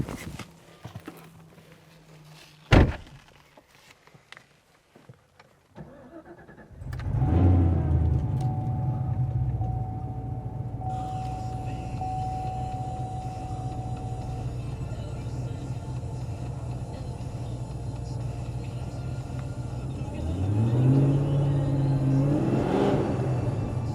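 A Yenko Camaro V8 at Celebrity Cars Las Vegas, already warm, fires up after a few clicks and settles into a steady, deep rumbling idle, with a brief rev near the end and some talk beforehand.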